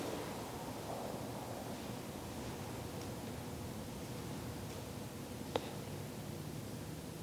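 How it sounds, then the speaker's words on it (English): Wind blows outdoors as the weather turns, a constant broad rushing noise at low volume with one brief sharp click near the end and no talk. "You can see that the weather start to change. Windy and maybe raining."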